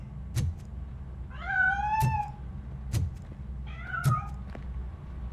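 A cat in the video game RoboCop Rogue City gives two drawn-out meows, each rising and falling, over a low background hum with a few sharp knocks between them.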